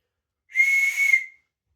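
A survival whistle blown in one steady blast of a little under a second, shrill and bright with a breathy hiss, loud and alone against silence.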